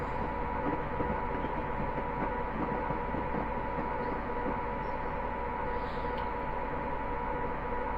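Electric Class 86 locomotive hauling a train between Doncaster and Grantham in Train Simulator Classic, a steady close rumble of wheels and traction motor running continuously with a faint rhythmic rail clatter throughout.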